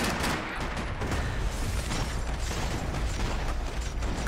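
Dual pistols fire in rapid, overlapping bursts during a Max Payne 3 multiplayer match on PC, with mechanical clatter between the shots. The gunfire is dense and continuous throughout, with no speech.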